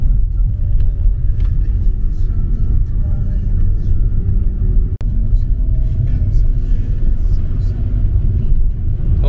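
A car drives along a road toward Birkenhead Lake Provincial Park, heard from inside as a steady, loud low rumble of engine and tire noise that continues without a break, with a brief soft knock midway.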